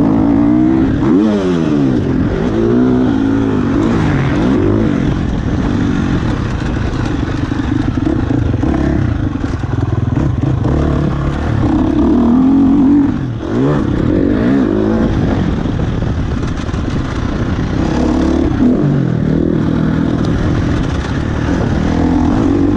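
A KTM 350 SX-F four-stroke motocross bike rides laps on a dirt MX track at Günterslebеn, its engine revving up and down continuously and loudly through gear changes and throttle swells, close to the microphone.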